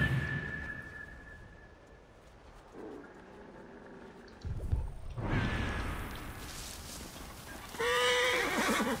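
A horse in the Assassin's Creed Origins video game gives a clear whinny over a quiet outdoor ambience, with hoofbeats and soft movement sounds before it; moderately near, no talking.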